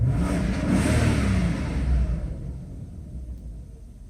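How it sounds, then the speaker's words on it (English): A Mercedes S420 car accelerating, a loud, close engine roar that swells through the first two seconds and then eases off and fades toward the end, with no talk. "it accelerates pretty nice."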